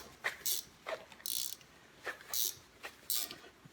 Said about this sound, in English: take your wrench,